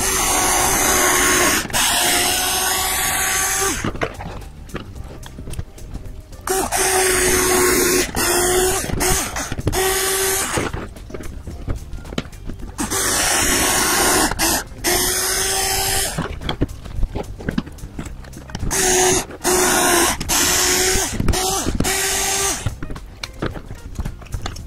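Power drill boring a hole into a quad motor arm lug, whining in several bursts of a few seconds each, separated by short pauses, loud and close with no talk.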